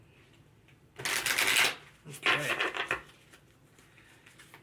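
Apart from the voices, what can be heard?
shuffling tarot cards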